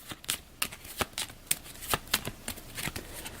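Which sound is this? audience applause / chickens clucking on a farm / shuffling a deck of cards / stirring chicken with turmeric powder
shuffling a deck of cards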